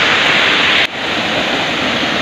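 Loud, continuous rushing of falling water, a dense roar that briefly dips partway through before carrying on steadily.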